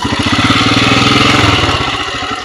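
A Royal Enfield motorcycle runs in first gear at night in the Zanskar valley, its engine giving a loud, close, steady thumping beat throughout.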